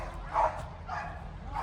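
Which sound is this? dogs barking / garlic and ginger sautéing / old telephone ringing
dogs barking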